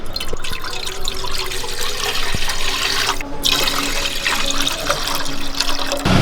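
Water runs steadily with a broad, splashy rush as it is poured into a pot for brine, close by and fairly loud, with no voices over it.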